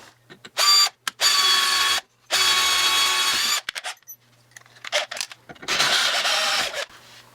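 A power drill boring pilot holes for mounting a rail scratcher, with several loud close whirring bursts of a second or more each, broken by pauses and short clicks of the trigger and bit.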